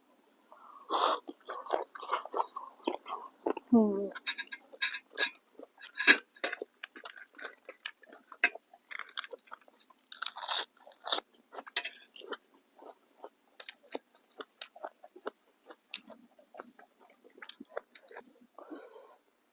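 Crunchy chewing of octopus close to the mic, a run of sharp crisp bites with mouth noises and breaths between them. No talk.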